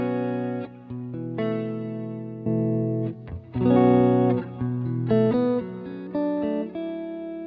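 Electric guitar through a Helix preset with a mono tremolo at a slow rate and the Rochester compressor bypassed, playing sustained chords and single notes that swell and cut off in uneven phrases, with a clear, close sound and no voices.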